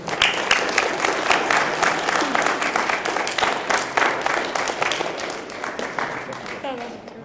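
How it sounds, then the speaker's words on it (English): Audience applause at a junior high school spelling bee, a dense burst of clapping that stays loud and steady for several seconds and then tapers off, with voices faintly mixed in. "Get a round of applause to Quentin here."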